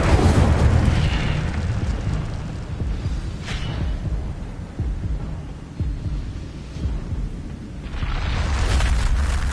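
An Incendio fire spell cast in the video game Hogwarts Legacy: a deep, rumbling whoosh of flame with low booming surges, loudest at the start and again near the end, with no talking.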